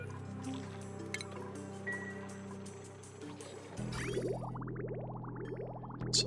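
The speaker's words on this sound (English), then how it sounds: "It's actively pumping water to be turned into oxygen." Water pump running in the colony-building video game Oxygen Not Included, a steady watery bubbling and dripping under game music, with rising gurgling sweeps joining in the second half.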